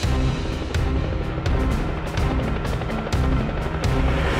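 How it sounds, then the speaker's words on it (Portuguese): A Military Police Águia helicopter hovers overhead, its rotor thudding steadily and loudly. Sharp, irregular clicks and cracks cut through the engine roar. "O helicóptero Águia da Polícia Militar dá todo o suporte de monitoramento do local pelo alto."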